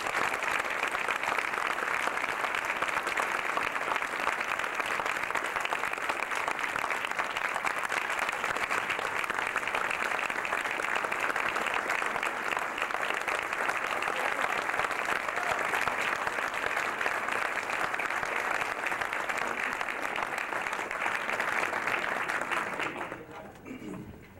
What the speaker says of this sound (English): I hope you give them a round of applause